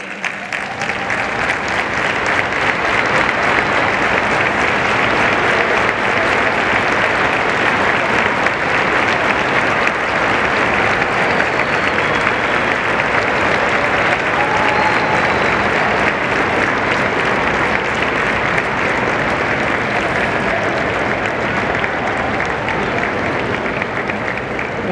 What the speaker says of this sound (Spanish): qué les parece si se ponen de pie y les dan un aplauso aquí a todos los familiares